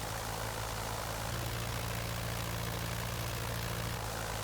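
Curtiss Jenny propeller plane in Flight Simulator 2020 lifting off and sitting in ground effect, a steady droning engine and propeller hum with a constant low tone, continuous and unbroken, with no voices.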